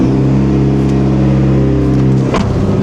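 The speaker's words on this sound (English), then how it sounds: "let's do a cold start" A Mitsubishi Evo engine idles loud and close after a cold start, a steady low rumble with a brief throttle change near the end.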